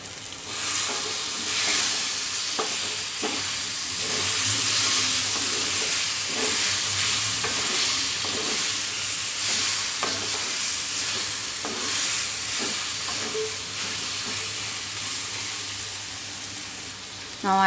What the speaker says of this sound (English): So now I am adding fried potatoes, with green chilies,